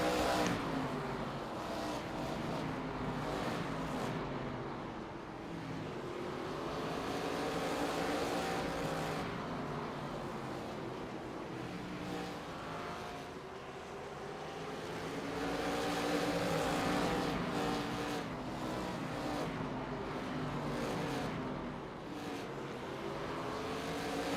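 Several ARCA race cars circle the flat, lightly banked Langley short track in a racing video game, their engines droning steadily and swelling and fading as they pass, with no talk over the sustained engine noise.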